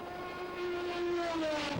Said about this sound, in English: The boat's absolutely screaming past us as we chase them in the helicopters.